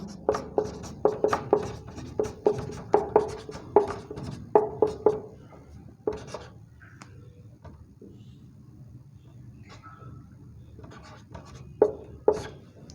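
Math being written on a board during a lesson: brisk, rhythmic scratching strokes in close succession for about six seconds, then a quieter stretch with a few isolated strokes near the end.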